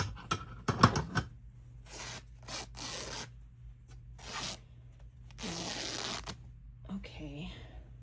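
Vintage paper rips in several separate short bursts up close, dry rasping tears spaced by pauses, with a brief voice near the start.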